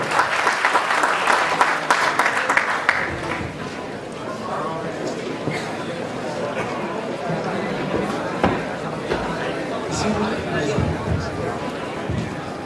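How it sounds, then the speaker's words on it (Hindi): Audience at a talk event applauding as a speaker is invited on stage, a burst of dense clapping that fades after a few seconds, followed by a live hall where people start talking. "A big round of applause for him."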